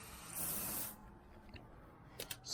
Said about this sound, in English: Spray from 6 inches away with the correct product.